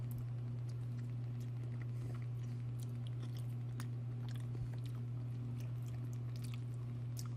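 Someone chews a bite of pan-cooked triggerfish outdoors, soft irregular close mouth sounds over a steady low hum, with no talking.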